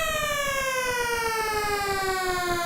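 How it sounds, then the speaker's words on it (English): An electronic tone from Mega Man 2 on NES sound hardware sweeps steadily downward, layered with buzzing harmonics and a rough chiptune-style texture, like a machine powering down. "they actually did a pretty good job emulating that shutdown effect with NES sound hardware"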